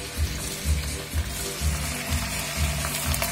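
Water hitting a hot pan of cime di rape frying in oil with garlic and chili, a steady loud sizzle with rhythmic low thumps, close and alone without talk.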